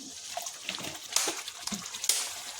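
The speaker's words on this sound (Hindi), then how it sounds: "ये देखिए मसाला भुन गया, अब इसमें थोड़ा से पानी डालेंगे।" Water poured into fried masala in a pan for a broken-egg gravy, giving close, uneven sloshing and splashing with a few sharper bursts and no talk.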